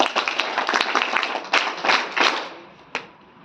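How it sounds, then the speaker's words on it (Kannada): An audience at a police open-house programme for students claps, a dense spatter of hand claps that swells and fades in waves, with a few sharper louder claps near the end. "ಚಪ್ಪಾಳೆ ತಟ್ಟುವ ಮೂಲಕ ಕೃತಜ್ಞತೆ ಹೇಳ್ಬೇಕು"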